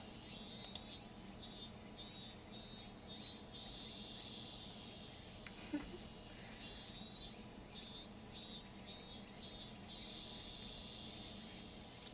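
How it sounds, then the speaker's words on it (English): Cicadas chirp in a summer-evening scene in the video game Higurashi When They Cry, a high, steady chorus pulsing in repeated bursts that fade and return, with no talking. "I think the sound of the cicadas is actually really calming."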